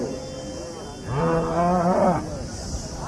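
A single loud cow moo rises and falls for about a second over a busy background hum at the Chintamani cattle market in Karnataka.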